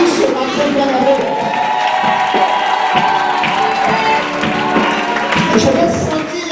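A church congregation at a French-language praise and worship service shouting for joy, with a sustained crowd roar of cheers, whoops and clapping, loud and continuous throughout.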